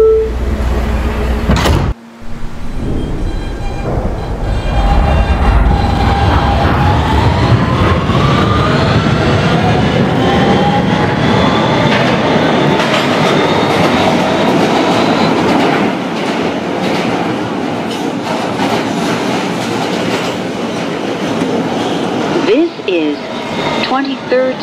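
In a Roblox game, an R160B Siemens subway train on the BMT Broadway Line rumbles loudly and continuously, motor whine rising in pitch as it speeds up, with rattling and clacking from the cars.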